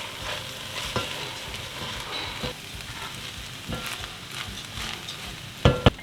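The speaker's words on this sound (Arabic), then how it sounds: "وبضيف عليهم الرز المنقوع وبقلبهم" Soaked rice is stirred with salt in a pot for Lebanese-style chestnut rice, giving a steady close sizzle broken by scraping spoon strokes and a sharp clatter near the end.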